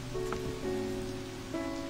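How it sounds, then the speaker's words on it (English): Rain pours in a video game, a steady soft hiss of falling drops accompanied by sustained tonal game music, with no speech. "Oh, it's raining, like they said."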